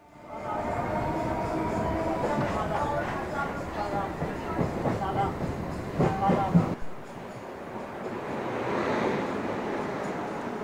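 A Sealdah–Barasat line local electric train pulling out of Birati station, with a loud, steady rumble and rhythmic clacking of wheels over rail joints that suddenly drops to a softer, even roll partway through.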